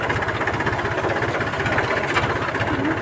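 A steady, rumbling tractor engine idles close by, its low throbbing pulse continuous throughout with no voices.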